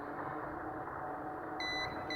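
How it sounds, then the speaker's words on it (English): Electronic beeping in a horror video game, a few short high tones that come in near the end over a steady dull background rumble, with no talk. "stop beeping at me"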